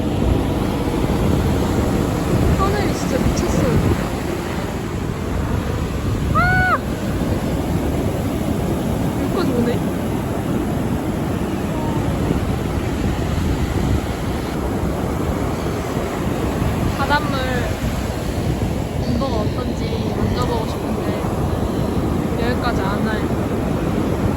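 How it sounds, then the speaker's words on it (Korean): Ocean waves wash in at Manly Beach in Australia, a broad, steady surf roar with wind buffeting the microphone, while people chat now and then over it. "와 파도 봐"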